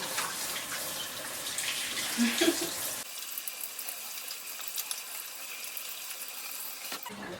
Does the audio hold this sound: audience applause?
no